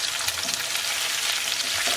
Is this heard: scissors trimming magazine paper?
no